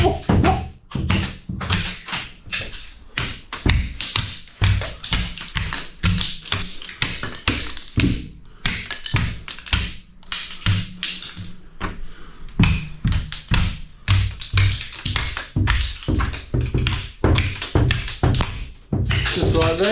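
Old tiles are knocked off the walls of an upstairs bathroom with a rapid, continuous series of sharp taps and thuds, loud and close, barely pausing over twenty seconds of demolition.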